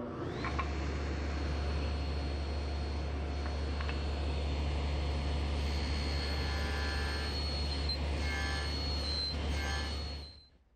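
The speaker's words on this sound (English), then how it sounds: "that material is best removed using the table saw, just nibbling it away" A table saw nibbles away wood to cut a haunched tenon for a Shaker wall clock. The motor drones steadily for about ten seconds while the blade's cutting noise rises and falls, then the sound winds down at the end.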